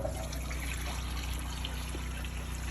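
A Costway 20 lb portable washing machine drains dirty wash water into a gray water holding tank at a campsite, producing a continuous close trickling pour with a steady low hum beneath it.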